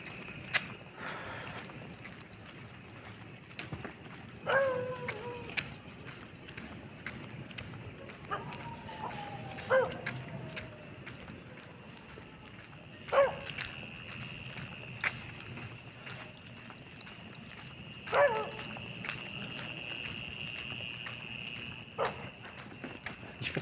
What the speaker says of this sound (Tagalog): Yung aso, daming aso.